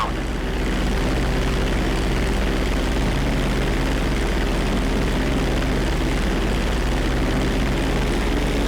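A propeller airplane in GTA 5 revs at full throttle for its takeoff, a steady loud engine drone with a low buzzing hum that holds unbroken throughout, no voices.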